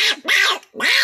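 A voice imitates fighting cats with three loud, strained yowling bursts in quick succession, each rising and falling.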